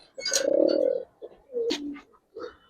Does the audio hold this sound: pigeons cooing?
yes